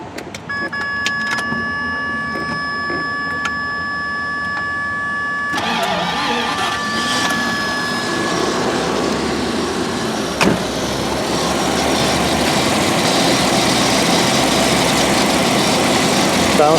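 A 1990 Jaguar XJ12 V12 engine cranks and catches, then settles into a steady idle. A few clicks and rattles come early, and the running engine grows slightly louder toward the end.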